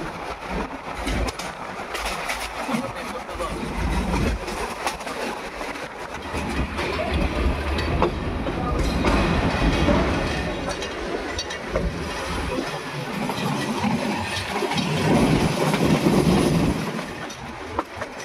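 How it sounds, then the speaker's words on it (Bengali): A passenger train runs through tea gardens, its wheels and carriages rumbling steadily with rhythmic clatter and occasional squeals, heard from on board at a moderate, continuous level without talk. "চা বাগানের মাঝখান দিয়ে ট্রেন চলে যাচ্ছিল"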